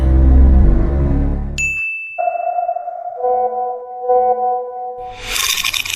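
A phone chimes with a message notification, a bright ding that rings out and hangs with a sustained tonal decay after a low rumble fades, then a rushing noise at the end; no voices.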